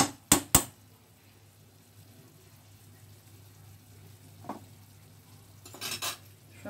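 Chicken jalfrezi with onion, capsicum, tomato and chili garlic sauce being stirred in a pan: a few sharp utensil clacks against the pan at the start, a quiet sizzle, then more scraping and clinking near the end.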